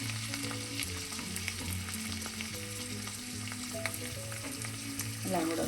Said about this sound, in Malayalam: വെളിച്ചെണ്ണ ചൂടായിട്ടിടുമ്പോൾ നമുക്ക് കറിവേപ്പില ഇട്ടൊന്ന് ഒപ്പിക്കാം. അതിലേക്ക് നമുക്ക് അരിഞ്ഞ് വെച്ചിരിക്കുന്ന ഉള്ളി കൂടെ ചേർക്കാം.